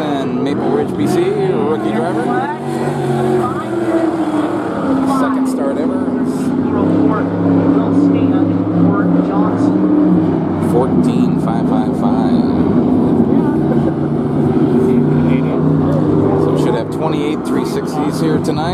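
360 sprint cars at Skagit Speedway rumble and rev steadily on the track, engine drone rising and falling throughout while an announcer talks over the loudspeaker.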